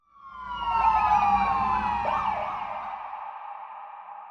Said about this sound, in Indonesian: Suara sirine memecah pagi di Tapatuan, Kabupaten Aceh Selatan, Provinsi Aceh beberapa waktu lalu.